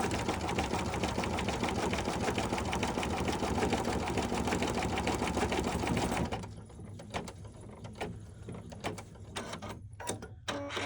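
An embroidery machine stitches an in-the-hoop zippered key fob, a loud, fast, steady mechanical whirring that runs for about six seconds and then stops, leaving soft handling noises and a few light clicks.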